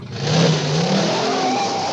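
A 1949 Buick Roadmaster with its straight-eight engine pulls away, the engine revving loudly and steadily up close, with no voices over it.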